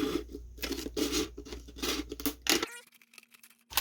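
Scissors snip and crunch through plastic packaging along its seam in several close, choppy bursts of cutting and crinkling, then a short near-silent stretch with a faint tone before a final rustle.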